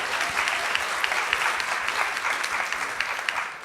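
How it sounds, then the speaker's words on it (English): Sustained audience applause for a panel at a university psychology and counselling session, a dense steady wash of many hands clapping that holds evenly throughout before easing slightly at the end. "Can we have a round of applause for our panel?"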